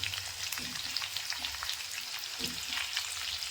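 Ginger sautéing in a hot oiled pan for a lentil and broad bean dish, before onion goes in: a steady, close frying hiss with soft stirring scrapes throughout, no voices.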